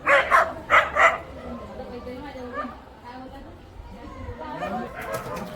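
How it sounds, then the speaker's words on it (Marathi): Dogs fighting, with three sharp, close barks at the start followed by quieter yips and whimpers, while people chatter nearby. "कुत्री कशी लागतात भांडायला."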